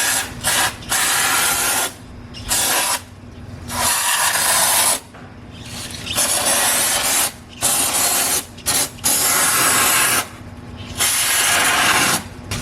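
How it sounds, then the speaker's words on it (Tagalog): Cleaner is sprayed onto the side of a Nissan Navara automatic transmission in a series of close, loud hissing bursts of uneven length, separated by short pauses. "So, sprayan ko lang din yung gilid dito para kahit paano mawala yung oil niya."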